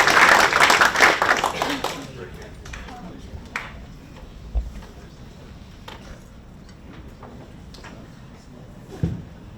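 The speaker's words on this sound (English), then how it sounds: "Give them a round of applause." Brief applause for George and Ethan, a father and son team from Ascender Systems, loudest at the start and fading within two seconds to scattered handling noises and soft talk in the room.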